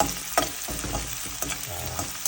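Crab gravy frying in a pan while being stirred, a steady close sizzle with scraping strokes of the spoon, no voices.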